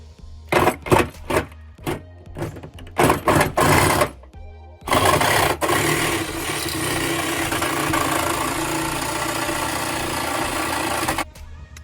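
An angle grinder cuts into the inner fender of a 2022 Nissan Frontier: several short loud bursts, then a long, steady, harsh whine of metal being cut before it stops abruptly.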